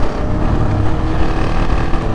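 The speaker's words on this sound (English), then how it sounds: "Oh, there's more bikes!" Motorcycles roar past at close range in a loud, continuous engine rumble, with wind buffeting the microphone throughout.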